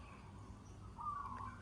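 A morning on the Thai island of Koh Samet, with a faint, quiet background in which a single bird gives a short, thin, whistled call that rises briefly near the end.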